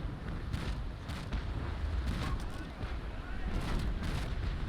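Cannon fire from sailing warships in the naval battle game Naval Action, a run of heavy, rumbling booms and broad blasts rolling over each other at a steady, fairly loud level with no speech.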